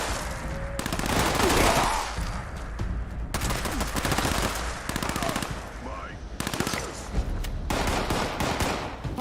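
A light machine gun firing in Fallout 76, long loud bursts of rapid automatic shots broken by brief pauses, with occasional talk in the background.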